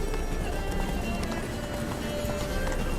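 The horse Roach gallops in The Witcher 3: Blood and Wine, its hooves beating in a quick, steady clip-clop rhythm, close and loud over a continuous rushing background.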